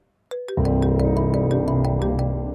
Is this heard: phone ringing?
yes